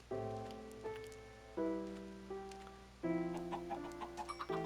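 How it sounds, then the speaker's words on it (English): Chickens in the video game Minecraft clucking in a series of short tonal calls, several separate bursts and a quick run of clucks near the end, fairly close and alone against a quiet background. "Oh, or chickens or whatever these are."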